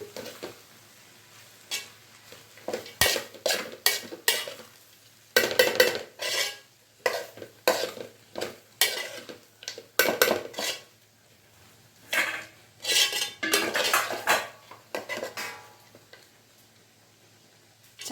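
A spoon scrapes and clatters in a pan, irregular and close, while avalakki chitranna made from flattened rice is mixed, with a faint sizzle underneath.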